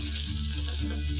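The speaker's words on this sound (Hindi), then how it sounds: "ऑयल में अदरक लहसुन और मीट शामिल किया।" Chicken, ginger and garlic fry in hot oil, giving a steady close sizzle that fills the whole brief moment without any voice.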